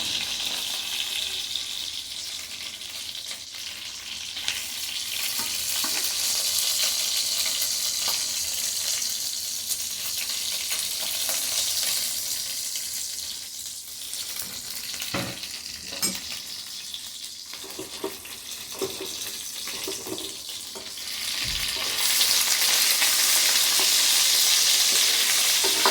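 Mackerel fish sizzling steadily in a frying pan at a home breakfast, with occasional clinks and stirring, growing louder and fuller toward the end.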